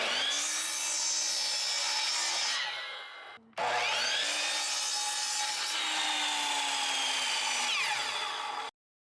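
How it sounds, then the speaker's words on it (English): A power saw cuts wood for birdfeeder houses in two loud, steady passes, the first about three seconds long and the second about five, with a brief break between them and a clean stop at the end. "We're gonna cut some wood real fast."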